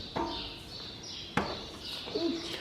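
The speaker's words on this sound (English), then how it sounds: "You can hear a bird chirping?" Faint birds chirp outdoors on a farm, a few short, scattered calls spread over a quiet background, fairly distant and soft.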